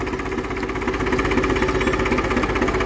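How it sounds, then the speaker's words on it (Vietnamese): A 4CH-ST 160-horsepower engine idles steadily on a test run, a close, loud, even mechanical drone with a fast regular firing pulse and no voices. "Máy nổ rất là chuẩn nè."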